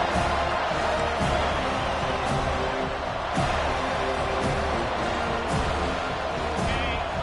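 A constant, loud wash of crowd noise from a college football stadium crowd in EA Sports College Football 25, with a broad cheering roar throughout and no clear peaks.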